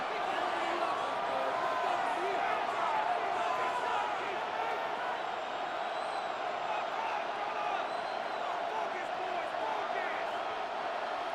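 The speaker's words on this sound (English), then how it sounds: "The noise very loud from the crowd." Stadium crowd in the video game Madden 26 during a Colts vs Jaguars matchup roars as a steady, dense wall of noise with whistles and whoops, underneath continuous commentary talk.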